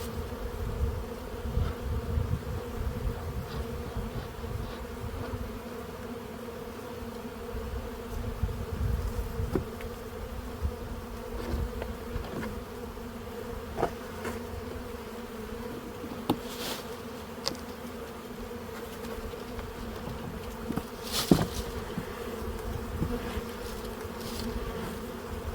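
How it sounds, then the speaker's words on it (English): Bees from a crowded spring hive buzz in a thick, steady drone, with louder individual bees passing close now and then. "You can see this hive is just busting at the seams. There are so many bees."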